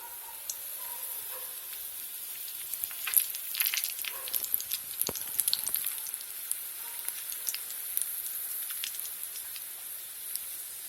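Red chilies fry in a pan for a homemade rice rava recipe, giving a faint, steady sizzle with a burst of crackling spatter in the middle, and no one speaks.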